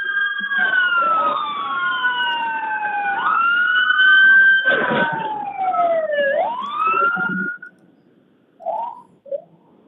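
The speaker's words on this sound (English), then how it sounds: "No, that's a fire truck." A fire truck siren wails past in rising and falling sweeps, loud and close, then cuts off, leaving brief faint sounds in near silence.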